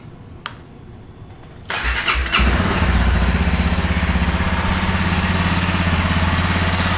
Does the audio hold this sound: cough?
no